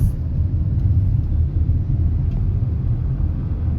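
An Audi sports car in Powai, Mumbai traffic gives a steady, deep rumble that holds fairly loud throughout, with no voices over it.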